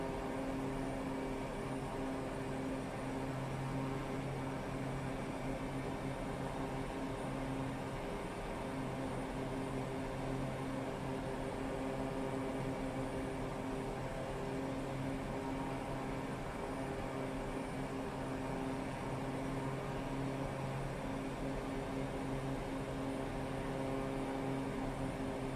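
A propeller airplane droning in steady flight over Anchorage, Alaska in Microsoft Flight Simulator, a constant even engine hum with a smooth hiss that holds unchanged throughout.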